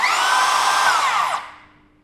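A Bosch GKS 185-LI cordless circular saw spinning freely with a loud high whine, then winding down and fading to silence after the trigger is released.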